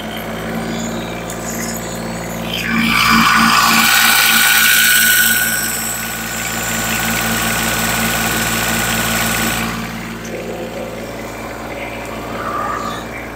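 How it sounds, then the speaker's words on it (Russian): A cold ISEKI GEAS TG273 compact tractor with a cab and rotary tiller runs its engine, revving up loud for several seconds, then settling to a steady, rattling idle with mechanical clatter throughout. "дам послушать, как работает двигатель."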